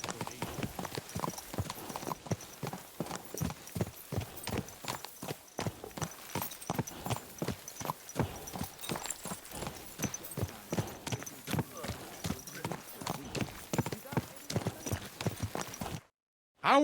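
Horse hooves clip-clop at a steady walking rhythm in the medieval video game Kingdom Come Deliverance 2, continuous and moderately close under a faint background bed, cutting off abruptly near the end.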